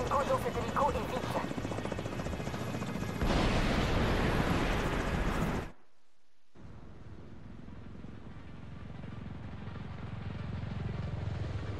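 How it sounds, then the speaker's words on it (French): Helicopter rotor roar in The Division 2 during a mission at a Coney Island stadium, loud and dense alongside explosions and game voices, cutting out briefly before a softer, steady engine rumble returns. "il faut mettre Tchernenko dans cet hélico et vite"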